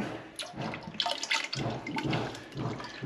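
Chemical cleaner (MC5) glugs and splashes as it is poured into a heating system's magnetic filter, an irregular liquid pour with bursts of splashing, fairly close and moderately quiet.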